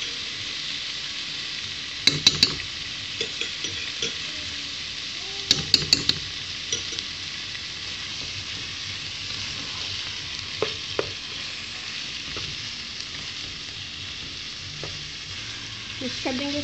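Vegetables sizzling steadily in a hot pan for spaghetti with mixed vegetables and chicken, with a few spoon scrapes and clinks as they are stirred, close and continuous, no speech.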